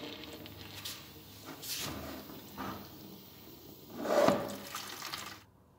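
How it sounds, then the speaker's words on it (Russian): Water from a radiator, drained after opening its air-bleed valve, trickles and splashes softly into a basin, with faint uneven gurgles swelling briefly near the end before cutting off. "Потихоньку открываем кран Маевского, запускаем воздух, чтобы можно было спокойно слить воду"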